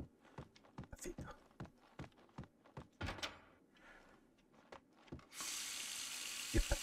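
In Max Payne 2, a few scattered thuds and footstep-like knocks come first, then a tap suddenly opens and water runs with a loud, steady hiss through the final second and a half.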